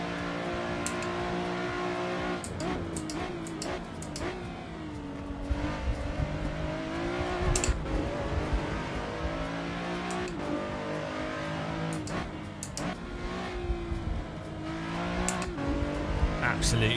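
Race car in a racing video game running flat out on a straight, a loud, steady high-revving engine drone with brief gear shifts and revs throughout, a speaking voice layered over it.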